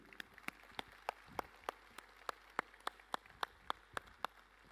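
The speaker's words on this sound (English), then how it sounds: "Can we have a huge round of applause for Farid?" Scattered, sparse claps ring out at a Vivo V7 Plus launch event as an audience applauds a guest named Farid, each clap distinct and evenly spaced in a quiet room, with no voices.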